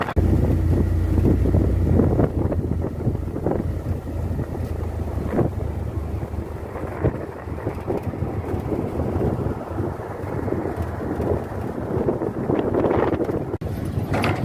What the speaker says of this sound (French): ça fait du bien, du vent, du bon petit vent